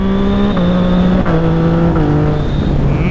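A Yamaha MT-09 motorcycle accelerating hard, its engine note climbing through several gears with brief dips at each shift, loud and close throughout with no talking.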